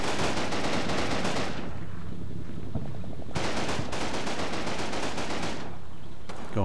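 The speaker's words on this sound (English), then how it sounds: "I'll put the covering fire on." Covering gunfire in Combat Mission: Battle for Normandy, a World War II game, with loud, sustained bursts of rapid machine-gun fire. The bursts break off briefly and then return, close and dense, with no talk over them.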